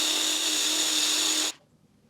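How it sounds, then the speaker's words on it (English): A power drill whines steadily while boring out a hole for a mirror mount on a Yamaha R7 motorcycle, running at a constant high pitch up close before stopping abruptly. "we need to drill this guy out just a little bit"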